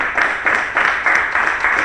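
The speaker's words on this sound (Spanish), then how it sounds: "Démosle palmas fuertes" A church congregation claps together in a loud, steady rhythm of repeated beats that carries on throughout.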